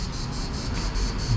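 A dense, steady cicada drone fills the air on the French Riviera coast, with a pulsing high-pitched buzz that swells and fades in regular waves, loud and continuous.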